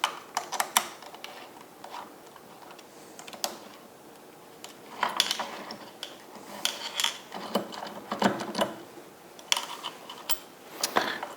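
Small screws being started by hand into a Multifix tool post on an Emco Maximat 7 lathe, heard as scattered faint metallic ticks, clicks and rubbing in irregular bursts close by, with no talk.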